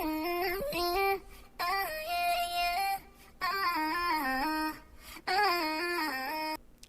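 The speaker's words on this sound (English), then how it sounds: "And so I found this vocal chop." A chopped, pitched-up vocal sample from a song chorus, cut into short melodic bursts separated by brief gaps, bright and upfront with no talking.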